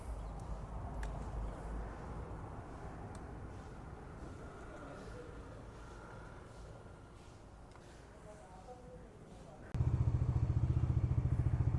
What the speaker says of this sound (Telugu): బైక్ ఇంజిన్ అయితే కోల్డ్ స్టార్ట్